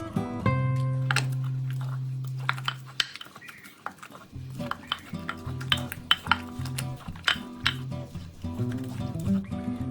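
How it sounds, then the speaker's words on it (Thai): Spoon and utensils clink and scrape against a bowl while spicy Thai eggplant salad is tossed with fish sauce and sugar, with light irregular taps and stirring over steady background music. "จากนั้นเราก็คลุกเคล้าให้เข้ากันค่ะ"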